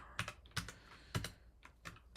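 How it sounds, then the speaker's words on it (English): Quick bursts of key presses on a computer keyboard during a live coding session, close and crisp, with several sharp clustered clicks separated by short pauses and no talking. "Almost done typing"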